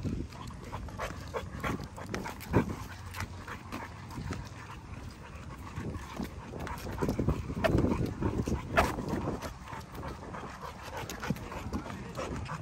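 Lilac tri puppies from one litter pant, whimper and shuffle around nearby, with soft scratching and movement noises and occasional louder bumps.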